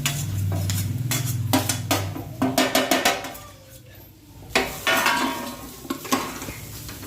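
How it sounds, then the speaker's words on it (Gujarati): Grated coconut roasts in ghee in a home kitchen pan, with repeated scraping and stirring clatter of a spoon against the metal pot over a soft sizzle, close and fairly loud. "હવે આપણે ઘીમાં શેકવા દેવાનું છે ટોપરાને"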